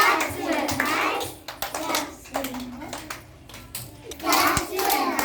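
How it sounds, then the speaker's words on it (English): Hands clap in bursts along to a children's action song while young voices sing and chant over the rhythmic patting. "Clap your hands."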